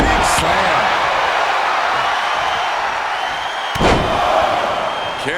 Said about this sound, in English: Big slam.